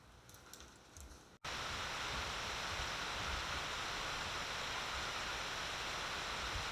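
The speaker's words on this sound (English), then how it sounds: "looking at some waterfall, but surely it's better than that." A waterfall in rough open country roars as a steady, dense rush of falling water. It starts abruptly after a brief quieter moment, then holds a loud, continuous hiss that fills the scene.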